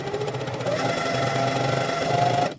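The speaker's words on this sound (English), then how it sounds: "You gotta turn the machine on. And then you want to do a couple of back stitches." A sewing machine stitches fabric for a LARP shield cover with paracord, giving a steady, loud mechanical whir that runs continuously and stops abruptly at the end.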